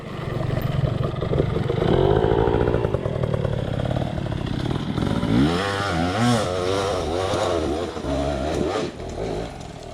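A Sur Ron Ultra Bee electric dirt bike ridden hard off-road over rough terrain, its motor whining and surging loud and close for the whole stretch, with clattering impacts and pitch swings as the throttle varies.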